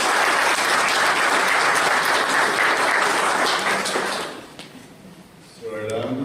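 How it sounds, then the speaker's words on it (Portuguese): Audience at a Spiritist house anniversary lecture gives loud, dense applause for about four seconds, then the clapping dies away and a voice starts. "Palmas para a Casa Espírita"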